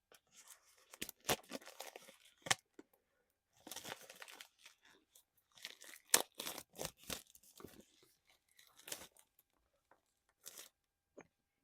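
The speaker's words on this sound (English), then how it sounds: "Here are some wrapper sounds for you." A plastic wrapper from a new mini microphone is crinkled and torn close up, producing bursts of crisp crackling and ripping with short quiet gaps between them.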